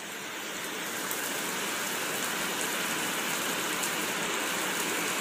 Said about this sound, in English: This is how it rains in my neck of the woods.